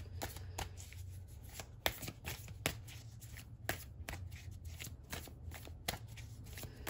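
Tarot-style cards are shuffled for a card reading, giving a close, quiet run of riffling flicks and sharp taps in an uneven rhythm, with no talk.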